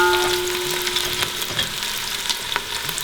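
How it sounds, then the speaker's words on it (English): Onions fry in hot oil for a brown chicken stew, a loud, steady close sizzle with faint stirring clicks throughout and no voices. "as soon as your oil gets hot, first thing we put is the onions."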